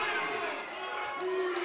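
Wrestling arena crowd at a title match roaring and cheering steadily throughout, a dense wash of many voices with a few shouts rising near the end, moderately loud and continuous.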